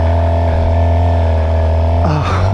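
A Suzuki GSX-R 750 motorcycle engine drones steadily and loudly up close with a strong intake growl, then the pitch dips and shifts near the end as the revs change.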